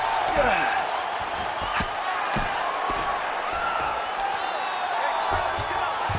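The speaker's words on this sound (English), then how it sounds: "you hear the crowd react every time they come together" Crowd reacting to strikes in the video game UFC 5, a continuous arena roar and murmur with scattered sharp impact thuds, while a commentator's voice talks over it.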